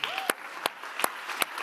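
A conference audience at a youth forum opening ceremony gives a brief round of applause, heard as a few sharp, spaced clap bursts over a low hall murmur.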